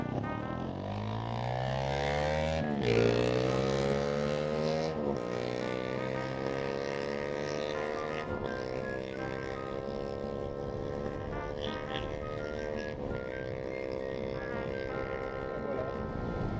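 Loud engine roar as a whole field of Mario Kart karts start together, the harmonic whine climbing in pitch and holding steady for the full stretch with no break.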